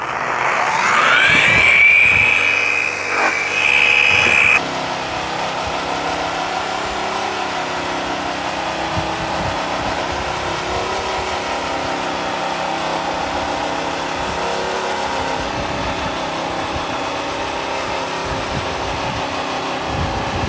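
An orbital polisher works compound across diamond plate with a continuous mid-pitched motor drone and a steady whine. Louder, rougher buffing fills the first few seconds before it settles into an even hum.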